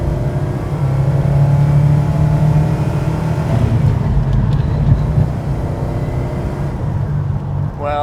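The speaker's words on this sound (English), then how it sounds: "What a glorious noise. You can't beat an American V8 for V8-ness." An American V8 in a classic car revs, a loud, close, deep engine roar that holds steady, then climbs and rises in pitch near the end, with no talking.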